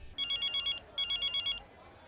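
Telephone ringing in two bursts of rapid trilling electronic rings, each about half a second of fast pulses, fairly faint against a quiet room.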